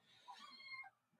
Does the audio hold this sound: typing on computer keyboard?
no